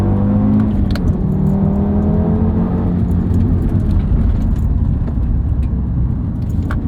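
Turbocharged five-cylinder engine of a 2013 Audi TT RS pulling hard after a moment of turbo lag, a loud, continuous engine drone with rising tones heard from inside the car, without talk.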